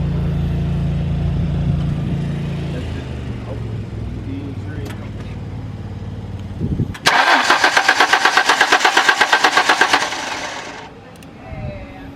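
Ford Mustang with a newly replaced fuel pump module, heard first as a quiet low hum, then a loud rapid rhythmic clatter of engine cranking lasting about three seconds before dropping away; talk occurs around it.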